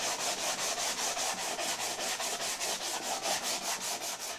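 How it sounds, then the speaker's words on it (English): Sanding the edge of a wooden cabinet door to remove table saw marks makes a close, steady rhythm of quick back-and-forth rubbing strokes, with no talking. "all it needs is a little bit of sanding on the edge to get rid of the saw marks"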